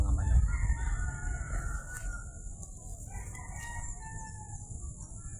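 Chickens clucking and calling nearby over a steady low rumble and a high, continuous insect-like whine; no talking.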